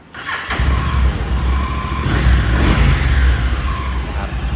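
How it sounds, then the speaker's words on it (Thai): A 2016 Honda NM4 motorcycle engine starts after a short crank and settles into a steady, loud, close idle that keeps running to the end. "เดี๋ยวสตาร์ทให้ฟังเสียงเครื่องยนต์ดีกว่า"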